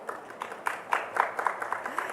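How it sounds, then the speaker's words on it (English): Applause from a conference audience at a leadership forum session, a faint, distant patter of scattered claps with soft peaks, heard alone without talk. "one more round of applause"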